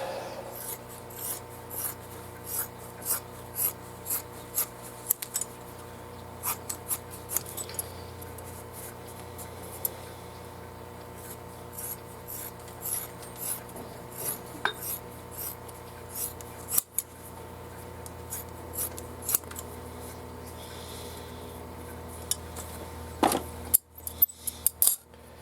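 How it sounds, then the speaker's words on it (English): Scissors snip through leather while making a holster for an 1860 Avenging Angel gun, a long run of small, quiet, irregular cuts and rubbing sounds close by, with a few sharper clacks near the end. "And then back to the scissors."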